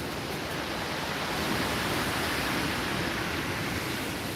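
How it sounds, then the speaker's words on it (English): Waves wash continuously onto a shingle beach, a dense, steady roar of surf and rushing water with no breaks, close and moderately loud throughout. "just listening to the waves crashing on the shore, should help you relax and chill."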